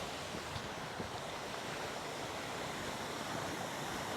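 Steady broadband roar of a waterfall and rushing creek water at a crossing point, continuous and close with no breaks, a slight gusty wind edge over it.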